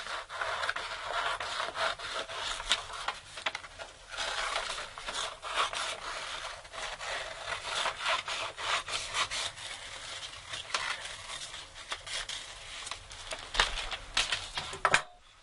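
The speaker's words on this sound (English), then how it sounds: "So let's cut out the pattern now." Orthotic splint material being cut along a pattern makes a steady, close rasping and snipping that runs almost continuously, with brief louder scrapes near the end.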